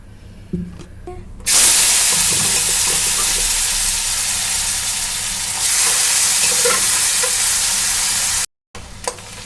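Oil heats in a kadhai, bursting into a loud steady sizzle and hiss as stirring scrapes along, with a brief cut near the end.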